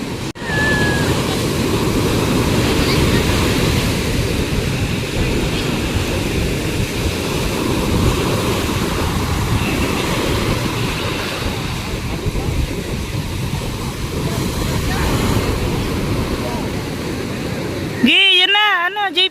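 Heavy surf roars continuously, a loud, dense rush of breaking waves mixed with wind buffeting the microphone, and a burst of distortion comes near the end.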